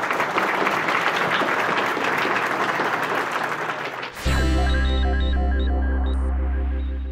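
Audience applause at an amateur radio convention session rolls on for about four seconds as steady crowd clapping, then cuts abruptly into a tonal, electronic-sounding passage that carries to the end.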